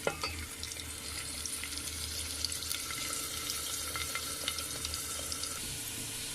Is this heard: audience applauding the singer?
no